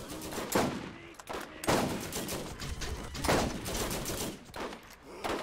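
Repeated sniper rifle shots in the video game Borderlands ring out as loud, sharp bursts at irregular intervals, one after another with brief gaps.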